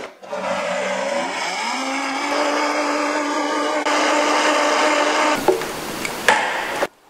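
A kitchen blender whirs loudly as it chops watermelon, mint and ice, the motor grinding and shifting pitch as the contents churn, then cutting off abruptly after about seven seconds.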